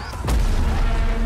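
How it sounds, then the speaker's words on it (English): A deep, booming explosion in the Battlefield 2042 reveal trailer hits early and rumbles on heavily, with a faint voice in the background of the soundtrack. "Oh, look at the explosions."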